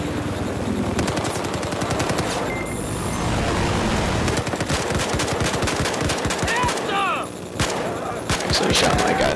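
Rapid machine-gun and rifle fire in Battlefield 4, loud and near, with dense overlapping bursts that run almost nonstop alongside chaotic battle noise and brief voices.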